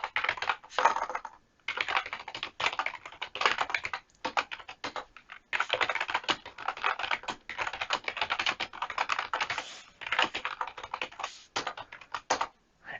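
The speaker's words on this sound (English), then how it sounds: "just going to type it in." Fingers type code on a computer keyboard in quick bursts of close, crisp key clicks, broken by short pauses, with no talking.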